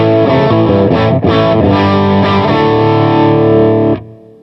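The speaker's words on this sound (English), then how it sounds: "Some clean guitar right through there, this overdrive, and some blend of the sort of BB preamp crayon side there." Electric guitar chords played through a parallel blend of clean signal, overdrive pedal and a BB preamp-style drive, thick and saturated with strummed attacks, sustaining evenly before cutting off sharply near the end.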